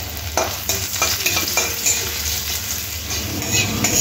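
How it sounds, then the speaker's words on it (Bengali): Dried red chillies and ginger fry in oil, a steady close sizzle broken by scraping stirs of a spoon against the pan. "আদাটাও লঙ্কার সাথে ভেজে নেব, তাহলে চপের মধ্যে দিলে খেতে দারুণ হবে।"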